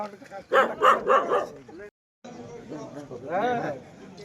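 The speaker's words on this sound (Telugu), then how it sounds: "కుక్క ఉంది" A dog in an old residential colony barks in a quick run of close, loud yaps, then more barking follows after a short gap, mixed with people talking.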